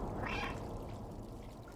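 In the video game Stray, a cat gives one short, soft meow near the start, faint over a low background rumble.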